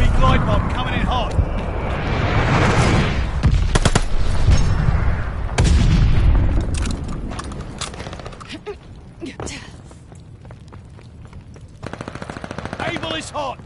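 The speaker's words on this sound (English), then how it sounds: "Enemy glide bomb coming in hot!" In a video game, an enemy glide bomb whooshes in and explodes in a heavy rumbling blast, mixed with sustained gunfire and shouted voices, loud and close.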